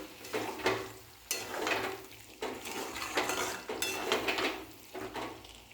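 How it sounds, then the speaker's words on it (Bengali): A utensil stirs spices and salt in a cooking pan with green tomatoes, giving a run of clanking, scraping strokes at close range over a faint sizzle. "এবার মশলাগুলোকে ভালো করে নাড়াচাড়া করে নেব।"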